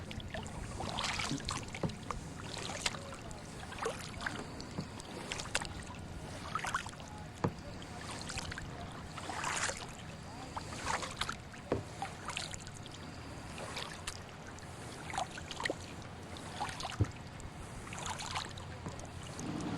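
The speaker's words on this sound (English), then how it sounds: "We just had to really paddle hard to catch up to them." Canoe paddles dip and pull through calm water in Acadia National Park, Maine, with repeated splashing strokes at an uneven rhythm over a steady soft wash of moving water, close by and moderately quiet.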